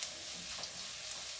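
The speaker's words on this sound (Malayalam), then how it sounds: "ഇതൊന്ന് ചെറുതായി ഇളക്കി നമുക്കൊന്ന് എല്ലാം കൂടെ യോജിപ്പിക്കാം" Spices and turmeric being stirred in a frying pan, giving a steady soft sizzling hiss with faint scraping over a short stretch, quiet and without any voices.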